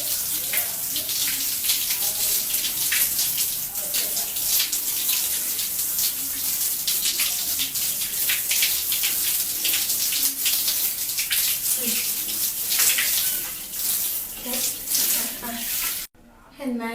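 Running tap water splashes steadily while a face mask is rinsed off, a loud continuous close-up wash with shifting spatter that cuts out briefly right at the end.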